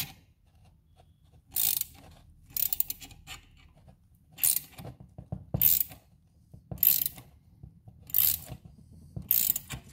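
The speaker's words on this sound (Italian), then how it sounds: "E ora comincio a girare con una chiave inglese." A wrench is turned in repeated bursts to close the clutch of a Piaggio Ciao moped, giving rhythmic metallic ratcheting clicks about once a second, close and clear with quiet gaps between, no voices.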